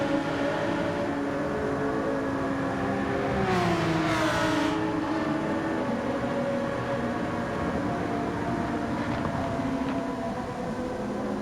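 Porsche race car engines in a sim racing league race, a steady close drone whose pitch sweeps upward as one car closes on another, then settles into a continuous hum.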